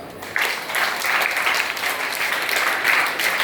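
A room full of people claps steadily for a few seconds, a dense, even wash of applause that starts abruptly and holds without any talking.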